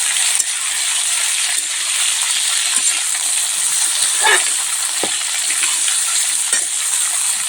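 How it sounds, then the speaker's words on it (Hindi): Potato and pointed gourd frying in a hot pan give a steady, close sizzle, with occasional light stirring scrapes and taps against the pan. "आलू और पटल को हम अच्छे से भून लेते हैं एकदम।"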